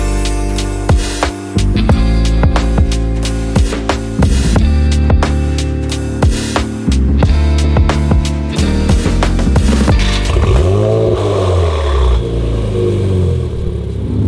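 A brand-new Nissan 400Z fitted with a Valvetronic exhaust roars loudly up close, climbing through repeated revs and hard accelerations with sharp rises and falls in engine pitch and some clattering crackle between pulls.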